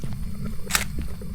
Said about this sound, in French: je vais bien prendre ça en photo, moi